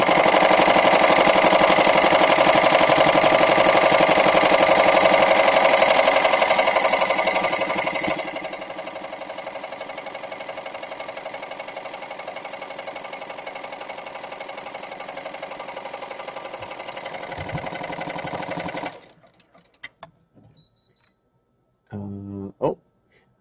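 Embroidery machine stitching a penguin design runs with a loud, rapid mechanical chatter that drops to a softer steady whir midway, then stops abruptly, leaving a few clicks and handling noises.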